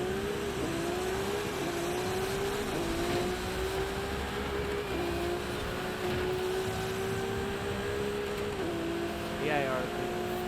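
A Ferrari engine in Forza Horizon 5 drones steadily at mid pitch with small shifts and brief dips between gears, a continuous car hum with a faint bit of talk underneath.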